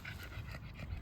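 An animal pants close by in quick, steady breaths. The rapid, rhythmic panting runs without a break across the whole short stretch, and no one speaks over it.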